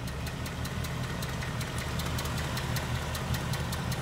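A 2018 Ford Mustang GT with the Coyote V8 idles steadily, with a fast, even ticking repeating throughout over the low engine rumble, captured close up at moderate level with no talk.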